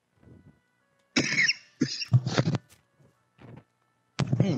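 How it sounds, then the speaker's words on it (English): A man coughs in several harsh bursts, some doubled, close to the microphone, with brief pauses and faint breathing between them. "you're making me cough"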